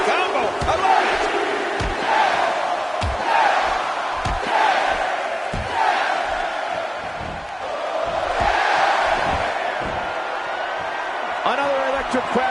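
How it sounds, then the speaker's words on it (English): A steady, roaring arena crowd in the WWE SmackDown video game cheers continuously, swelling and dipping beneath constant commentator talk. "Another electric crowd on hand here for SmackDown"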